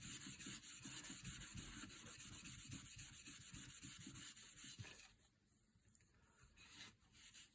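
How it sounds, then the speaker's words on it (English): Fine-grit sandpaper lightly rubs the wooden stock of a Beretta 690 shotgun in close, steady scratchy strokes that drop to a quieter, sparser rasp for the last couple of seconds. "In fact, I can quite safely say with a fine grit, I can just lightly sand that."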